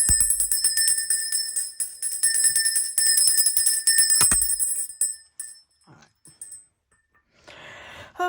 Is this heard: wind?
no